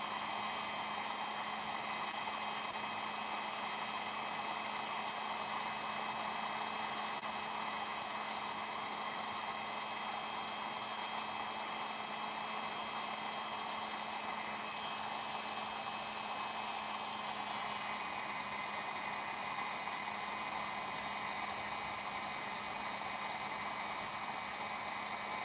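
Hot air blower heating a small turbocharger from the back, a steady loud whooshing roar with a constant motor whine, unbroken and close, no talking.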